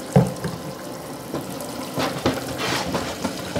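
Tap water runs into a sink while a plant saucer is rinsed under it, a close, continuous splashing wash with irregular surges and clatters.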